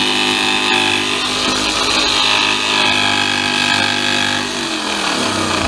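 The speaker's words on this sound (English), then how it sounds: "Okay, now we're going to jigsaw out the hole." Jigsaw cutting a hole in a roof for a MaxxAir fan, a loud continuous buzzing saw stroke running steadily for several seconds before slowing at the end.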